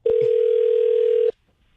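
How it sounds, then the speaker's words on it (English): A telephone dial tone sounds while a phone call is being placed: one loud, steady, unbroken tone that lasts just over a second, then cuts off abruptly into near silence. "Time to make a pretty important phone call."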